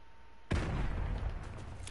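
A grenade blast in Call of Duty: Modern Warfare 2 hits suddenly after near silence, a loud booming burst whose rumbling debris tails off over a second or so.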